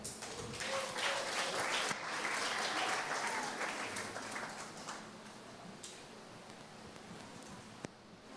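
Audience applause fills a pageant hall at a beauty contest final, a dense crowd clapping loudly for several seconds before easing to a softer, thinner patter that continues to the end.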